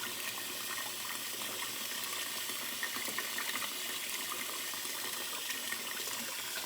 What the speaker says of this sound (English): making sure they get rinsed off, making sure all that enzymatic cleaner gets rinsed off before they go into the final bath here